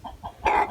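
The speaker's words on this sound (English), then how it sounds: "this rooster is pretty chill and really cool and extremely beautiful" A rooster clucks close by, two soft low clucks followed by a louder, brighter squawking cluck.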